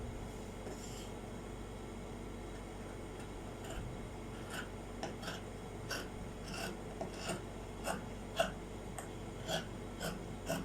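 Fabric being cut out for a dress sleeve, with soft, quiet rasping snips and rubbing repeating in an uneven rhythm, close by and with no talking.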